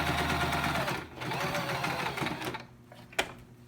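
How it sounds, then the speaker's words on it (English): Sewing machine stitching a fabric face mask, a steady fast mechanical whir that slows and stops near the end, followed by a faint click. "You're gonna sew to the other edge."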